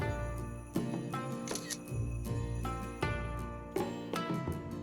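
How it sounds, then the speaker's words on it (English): A camera shutter clicks in the visual novel A Tithe in Blood, set against a tinkling music background with several sharp click-like hits spread across the passage. "finally taking the shot with a loud click"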